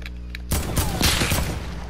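A sniper rifle shot cracks loudly in a first-person shooter game, a single sharp blast followed by a rumbling echo, after a brief quiet lead-in with low background hum.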